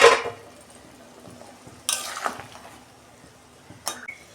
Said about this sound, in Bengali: 5 মিনিট মতো আমি ঢাকা দেবো